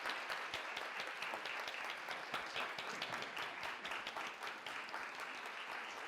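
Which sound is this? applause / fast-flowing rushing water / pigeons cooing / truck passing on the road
applause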